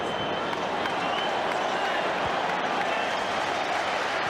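A football stadium crowd at a Premier League match between Manchester United and Newcastle United gives a broad, sustained murmur and scattered applause, a wide diffuse wash of noise heard from a distance.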